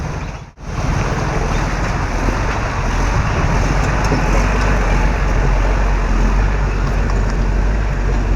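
A vehicle creeps slowly along the badly potholed Bhiwandi-Wada road, a steady loud rumble of engine and road noise that continues throughout after a brief dip near the start.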